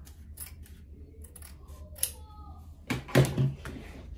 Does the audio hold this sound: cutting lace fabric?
yes